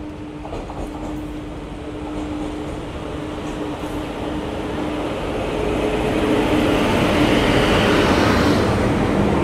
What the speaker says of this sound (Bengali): ট্রেন ঢুকছে কলকাতা দারভাঙা এক্সপ্রেস দক্ষিণেশ্বর